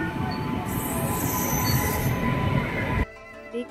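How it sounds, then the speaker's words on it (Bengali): A train pulls into Rampurhat station in West Bengal with loud, sustained high-pitched wheel squeal over rumbling carriages, the squeal cutting off abruptly near the end, leaving quieter rail noise. "ট্রেনটা বেশ খানিকটা লেট করেই কিন্তু পৌঁছে গেছে।"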